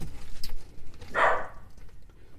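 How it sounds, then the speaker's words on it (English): A pet dog indoors gives a single short bark from a short distance away, standing out from a quiet room. "It's my dog."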